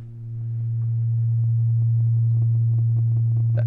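Steady low bass test tone from a home theatre subwoofer, swelling into a loud, sustained hum as it excites a length mode of the room, with faint overtones above and a slight bump near the end.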